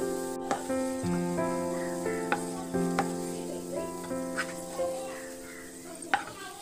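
Sliced onions fry to golden brown in a pan for hariyali chicken, with a soft sizzle and a few scattered spoon scrapes and clicks from stirring under steady background music.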